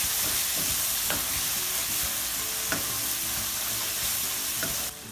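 Cumin powder and coriander powder frying in a pan for matar keema while being stirred, producing a steady close sizzle with repeated light scrapes of the spoon, no talking, fading slightly at the very end.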